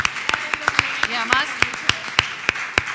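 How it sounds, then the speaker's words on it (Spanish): An audience at a literary reading festival claps in a sparse, evenly paced rhythm, roughly a dozen distinct claps in a few seconds, while a voice speaks over them. "un aplauso"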